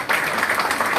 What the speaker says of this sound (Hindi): तालियां हो जानी चाहिए दोस्तों के मौके पे जी